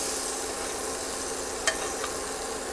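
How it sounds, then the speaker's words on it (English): Scallops sear in browning butter in a pan, a soft, even sizzle hissing throughout, with a couple of faint clicks near the end. "I want this butter to brown, and I want it to help cook these scallops and flavor them."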